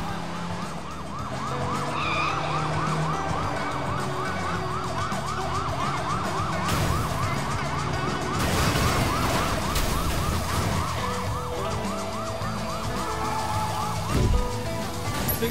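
Wailing police car sirens in a chase from the video game Sleeping Dogs, a loud cycling siren sweeping up and down over city traffic noise, with sharp crashes and bangs mixed in.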